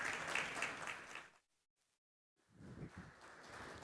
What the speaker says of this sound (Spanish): recibirlas a las dos con un fuerte aplauso a Laura y Adriana de Blue Voyant.